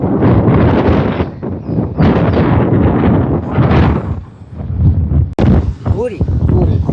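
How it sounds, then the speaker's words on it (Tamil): Strong wind buffets the microphone on a seaside beach during days of heavy rain, roaring loud and close in gusty surges with a sharp thump near the end. "சரியான காற்றா இருக்கு"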